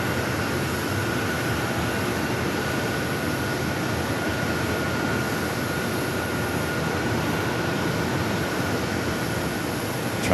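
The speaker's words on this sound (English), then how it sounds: "I'd rather hear the natural sound of the planes." Steady broadband roar of airplanes at Phoenix Sky Harbor airport, a continuous engine rumble and hiss that holds level throughout with no talking.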